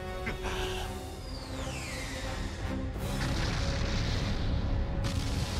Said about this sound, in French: moi je rêve d'une explosion pareille